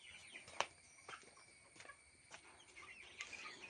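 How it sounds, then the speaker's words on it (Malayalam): Young chicks waiting to be fed, giving faint, scattered clucks and high peeps at uneven intervals, somewhat distant and quiet over low background noise, with no talking. "ഇതെൻ്റെ കോഴിക്കുട്ടികളാണേ"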